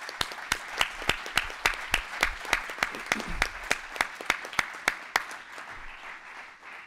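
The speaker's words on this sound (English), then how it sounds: "a round of applause" An association staff meeting audience applauds, with a broad wash of clapping underneath one loud, close pair of hands striking in a steady, regular beat that slows slightly before stopping near the end.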